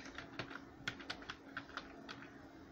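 Quick, light keystrokes on a computer keyboard, typing a few short words in an irregular burst of close, soft clicks.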